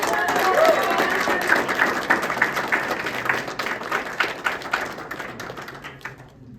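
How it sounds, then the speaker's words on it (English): An audience at a music and AI event applauds a singer, the clapping loud at first, then thinning into scattered claps that fade away. "She definitely deserves a very big round of applause."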